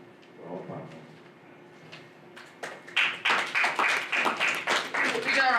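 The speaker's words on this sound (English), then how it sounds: "Big round of applause for that." An audience at a property company event breaks into applause, a few scattered claps at first that build into a steady run of loud clapping.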